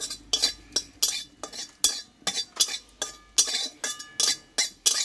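Dried kasuri methi (fenugreek leaves) stirred and lightly roasted in a pan, giving a steady run of about a dozen scraping strokes with soft clinks of the spoon against metal, close and clear, with no talk.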